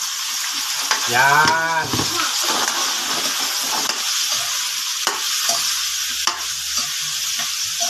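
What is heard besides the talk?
meat being sautéed in a pan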